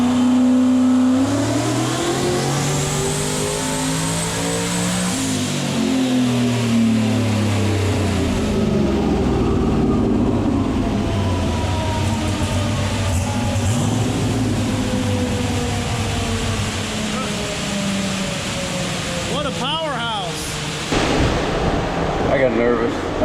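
A turbocharged COPO Camaro engine runs on a dyno, revving and climbing in pitch through a sustained pull, loud and close, with a brief higher whine and roar near the end.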